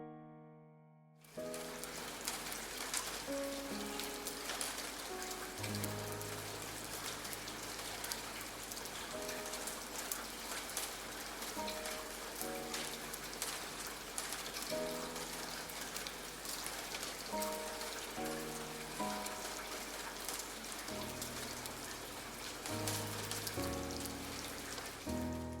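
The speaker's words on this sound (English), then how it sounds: "This sound of the rain was like a gentle embrace." Steady rain patters on a surface throughout, a dense continuous hiss of drops with soft musical tones playing underneath.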